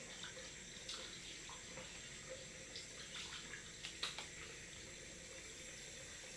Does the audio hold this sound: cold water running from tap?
yes